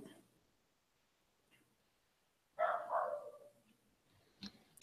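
An indoor dog gives one short, faint bark-like yelp in an otherwise quiet room, followed by a few soft clicks.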